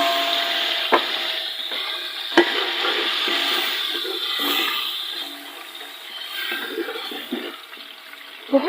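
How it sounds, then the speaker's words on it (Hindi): Onion paste seasoned with salt, ground black pepper and garam masala, thinned with a splash of water, sizzles and bubbles in a pan, a close, wet frying hiss broken by a few sharp clinks of stirring. "थोड़ा सा पानी दोबारा डाल के इसमें हम भून लेते।"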